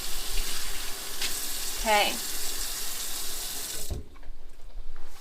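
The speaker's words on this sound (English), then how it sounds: "So we did wash our hands, now we're going to scrub, make sure the water's nice and warm." Warm water runs steadily from a tap into a sink while hands are washed, a continuous close hiss under brief speech, cutting off abruptly near the end.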